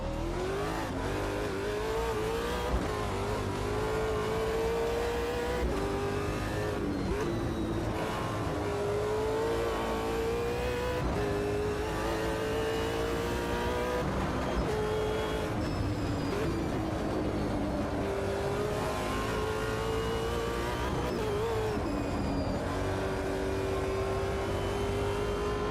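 A Holden race car in the Automobilista 2 racing game revs hard and continuously, its engine note climbing and dropping through repeated gear changes, loud and steady throughout with no voice over it.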